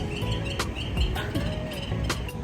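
Outdoors, a bird gives a series of short repeated chirps, fairly close and rhythmic, over a steady background hum.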